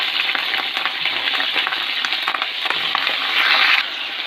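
Eggplant sizzles steadily in a hot pan with mustard seeds and urad dal for South Indian eggplant rice, a dense continuous crackle that swells briefly louder near the end, with no voices.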